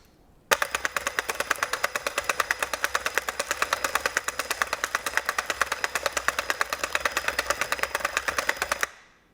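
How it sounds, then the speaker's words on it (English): An Ego string trimmer with Line IQ whirs as it automatically loads line onto its spool, a steady fast-ticking mechanical buzz lasting about eight seconds, then stopping abruptly. "we're gonna press this button here, and it should load the spool for us"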